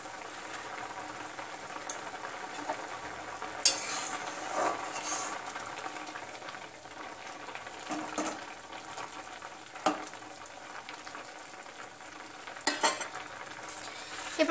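Milk for Bengali-style carrot halwa bubbling and simmering in a pan, a steady soft sizzle and bubbling with occasional scrapes and clinks of stirring.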